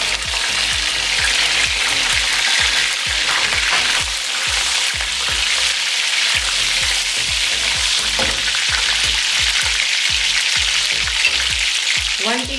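Mutton pieces hit a pan of golden fried onions and fry with a loud, steady sizzle, punctuated by repeated stirring scrapes throughout.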